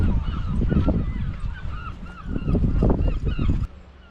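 Flock of geese honking near a beach, a loud, close chorus of overlapping calls in two bursts separated by a brief lull, with no talk.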